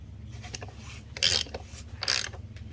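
A fuel filter being screwed down by hand on a Paccar truck gives two short, close rasping scrapes over a low steady hum.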